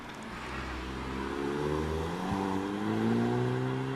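A Ford Fiesta ST-Line race car with a 998 cc turbocharged engine at a hill climb revs up through rising gears, a steady close engine drone climbing in pitch with a brief shift dip midway.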